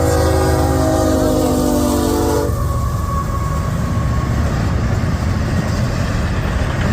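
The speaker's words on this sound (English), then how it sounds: "I got my first train of the day, and he's booking. Southbound CSX." A southbound CSX freight train rushes past close by, a steady loud roar of rumbling wheels and rail noise, with a sustained horn tone sounding over it for the first couple of seconds before the rolling clatter continues alone.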